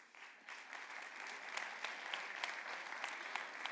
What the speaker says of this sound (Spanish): Os voy llamando y vais subiendo y con un cálido aplauso